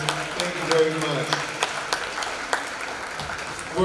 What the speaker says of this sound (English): Wonderful, wonderful round of applause for our softball team.